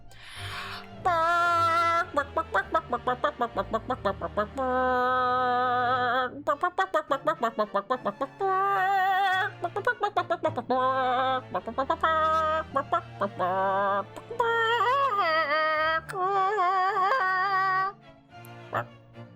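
Voices imitate chicken clucking in a rapid, rhythmic stream of loud, close, high-pitched clucks and bawks, broken by brief pauses and a few crowing-like calls.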